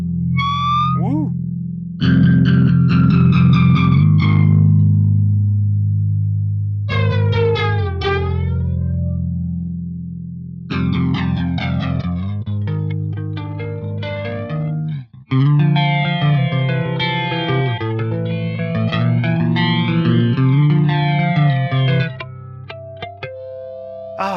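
Electric guitar run through an inexpensive flanger pedal, sweeping jet-like whooshes over strummed chords and single-note runs, loud and continuous with brief pauses between phrases.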